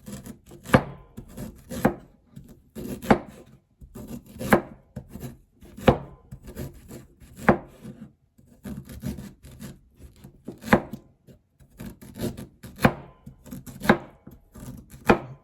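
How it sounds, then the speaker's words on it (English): A knife chops fresh ginger on a cutting board in quick rhythmic bursts of sharp taps, each flurry separated by brief pauses, close and clear with no talking. "Go ahead and chop up some of the ginger."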